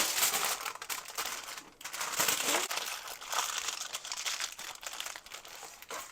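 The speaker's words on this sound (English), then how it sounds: "And then I take some tin foil and I wrap the cake in the tin foil." Tin foil is crinkled and folded tightly around a homemade fruit cake, a close, continuous rustling and crackling that swells and eases, heard alone.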